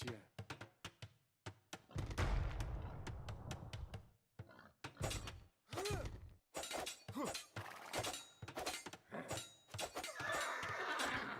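A horse whinnies as it is killed in a real-time strategy game, the neigh rising amid crashing, breaking battle effects and busy game sounds, with a commentator talking over much of the action.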